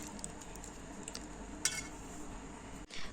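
Cauliflower pickle and lemon juice are stirred together by hand in a dish, making soft, continuous wet squelching and scraping with an occasional light clink.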